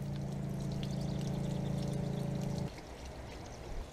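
Water drains in a steady stream from an RV's fresh water tank, a loud, even pouring rush that stops abruptly partway through, leaving a quieter trickle and faint background noise.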